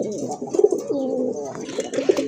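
Pigeons of two breeds cooing at a market stall, soft repeated throaty coos close by with a little background noise.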